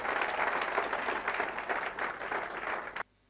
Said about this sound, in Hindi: एक बार जबरदस्त ताली होना चाहिए